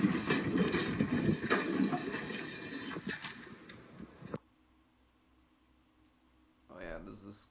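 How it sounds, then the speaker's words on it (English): A Mark III sleeper coach rolls on rails toward a scrapyard in a train video game, giving a steady clicking rumble that cuts off abruptly, followed by quiet and a short voice near the end. "this Mark III sleeper coach getting scrapped because... getting rolled into the scrapyard"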